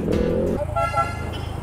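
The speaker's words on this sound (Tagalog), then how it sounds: "sino itong busina na to?" Vehicle horn honking on a street with motorcycle and car engines around, one sharp toot followed by a longer held honk over idling motors.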